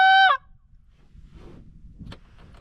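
A short, loud honking blast from a goose hunting call cuts off abruptly, leaving a quiet room with a few faint handling knocks afterward.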